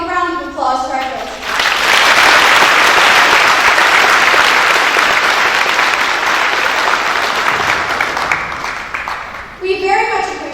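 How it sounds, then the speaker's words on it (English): A large audience at a Veterans Day drill team performance bursts into sustained applause, loud and dense for several seconds, with voices speaking briefly before and after the clapping. "Please give a round of applause to our girls."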